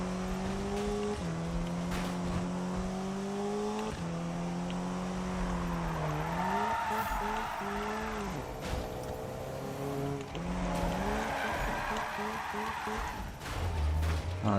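A car in a racing video game spins out, tires squealing in long sliding skids over a steady engine drone, with repeated squeals and revving as it loses grip, close and loud without speech.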